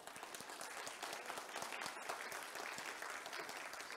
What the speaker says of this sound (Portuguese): Júnior, vice-presidente da ABS São Paulo, a quem eu peço uma salva de palmas.